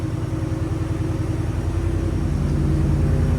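A supercharged Ford F-150 with a 5.0L V8 and Flowmaster Flow FX exhaust idles nearby, a steady loud rumble with a rhythmic low pulse that grows slightly louder toward the end.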